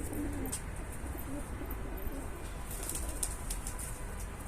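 Pigeons coo softly in short low phrases inside a loft, with light rustling and faint wing flutters in a busy, noisy background.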